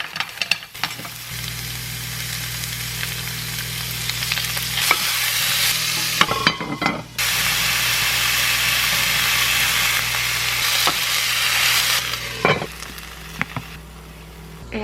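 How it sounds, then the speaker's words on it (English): Dinner cooks in an Always pan with a steady, close sizzle and frying hiss running throughout, broken by occasional utensil knocks and brief pauses. No one speaks. "Got back from work and I'm cooking dinner right now. I am using the Always pan for the first time for dinner."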